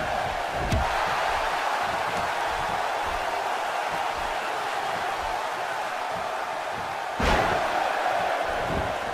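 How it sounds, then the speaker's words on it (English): Arena crowd in the WWE 2K16 wrestling game as a dense, steady roar of cheering throughout, with a couple of sharp slam-like thuds standing out above it. "by the sound of this crowd, I think they're getting what they wanted"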